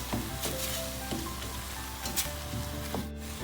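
Onions sautéing in a pan for a marinated chicken curry, a steady close sizzle broken by several soft scraping stirs at a loose rhythm, with a faint steady hum underneath and no talking.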